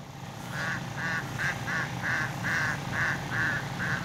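Ducks quack in a steady series of about nine evenly spaced calls, loud and fairly close, over a low rumble of outdoor background noise while the birds approach expecting food.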